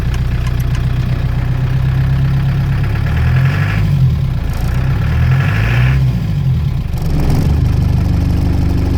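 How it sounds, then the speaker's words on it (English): An old 1990 vehicle's engine idles with the revs raised slightly, a loud, steady rattly rumble close by with brief swells in engine speed and no talking. "Just a bit too rattly at idle."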